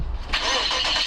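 A truck engine cranks and catches close by, turning over into a steady running rumble within about a second, with no talk over it.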